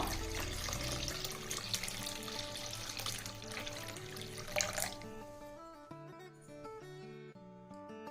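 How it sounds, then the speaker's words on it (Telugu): Half a litre of water pours steadily into a pot of tomato rasam, a full gushing stream that narrows to a rising, ringing fill with a few splashy trickles at the end. "హాఫ్ లీటర్ వాటర్ పోసుకుందాం"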